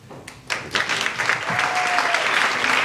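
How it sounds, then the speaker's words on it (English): Applause from a wedding audience swells after a toast and holds steady, a dense wash of clapping that fills the room. "Keep that applause going for Shelton Stevens."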